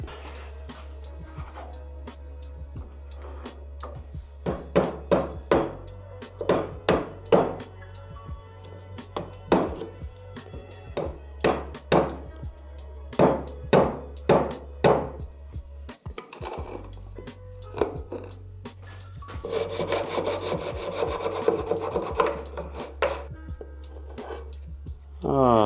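A steady series of sharp wooden taps and knocks from a chisel working a wooden cutting board, irregular but frequent, over a constant low hum, with a brief scraping passage near the end.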